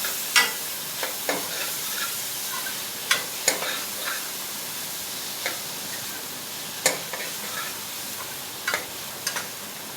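Paneer bhurji: crumbled paneer is mixed into cooked masala in a frying pan, with a quiet sizzle underneath and scattered sharp ticks and scrapes of the spatula against the pan at irregular intervals.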